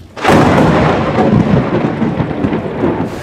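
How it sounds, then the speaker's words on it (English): A loud, piercing thunderclap during a lightning storm bursts in suddenly, then rolls and rumbles on with a heavy, crackling roar. "Piercing thunder followed by charges of lightning."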